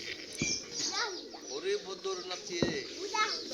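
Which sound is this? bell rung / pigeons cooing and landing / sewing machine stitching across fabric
pigeons cooing and landing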